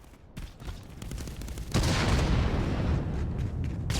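A grenade goes off in the VR shooter Contractors during a competitive playoff match, a loud burst that jumps up suddenly midway and rolls on as sustained rumbling over scattered earlier gunfire.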